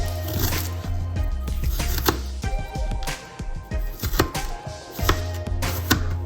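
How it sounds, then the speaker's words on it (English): A knife chops a strong onion on a cutting board for white chicken chili, a steady run of close, crisp thuds and cracks repeating over background music with no talking. "And this onion is real strong too. So we're gonna get that cut up really good."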